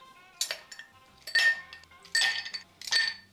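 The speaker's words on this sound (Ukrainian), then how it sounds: "Додаємо лід." Ice cubes drop into a cocktail mixing glass for a martini with dry vermouth and orange bitters, four separate bright clinking bursts about half a second to a second apart, close and crisp.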